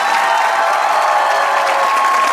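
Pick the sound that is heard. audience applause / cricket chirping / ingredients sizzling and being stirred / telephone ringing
audience applause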